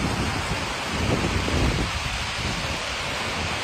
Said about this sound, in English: Hear it coming down.